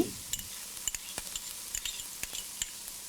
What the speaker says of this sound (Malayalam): ഓയിൽ ഇപ്പോൾ ചൂടായിട്ടുണ്ട്. ഇതിലോട്ട് നമ്മൾ കട്ട് ചെയ്ത് വെച്ചിരിക്കുന്ന ഉള്ളി,